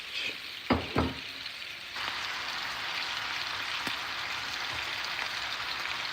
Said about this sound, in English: I'm going to deglaze that pan